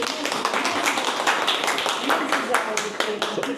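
Audience applause at a hospital training session for a tuberculosis-free campaign in Azerbaijan: dense, steady clapping from many hands filling the room throughout, close and fairly loud, with no speech over it.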